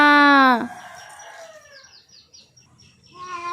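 A chicken calls loudly and nearby, a drawn-out squawk followed by softer clucks and chirps, then another call at the end.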